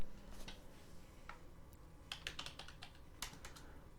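Quiet computer keyboard typing with scattered soft key clicks, clustering into a short quick run near the middle, faint against low room noise.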